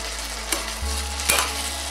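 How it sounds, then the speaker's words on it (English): Potatoes frying in butter in a pan for mac and cheese, a steady low sizzle with a couple of brief stirring clatters, close and without talk. "The potatoes are cooking, they're getting done."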